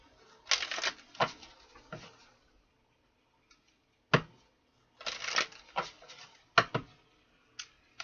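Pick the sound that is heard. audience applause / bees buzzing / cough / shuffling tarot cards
shuffling tarot cards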